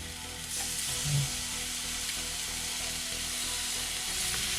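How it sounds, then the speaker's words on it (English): Bacon frying in a dry pan over medium-high heat: a steady, dense sizzle and hiss that holds throughout, close and even, with one faint clunk early on and no voices. "In a medium-high heat, you just want to start adding your bacon."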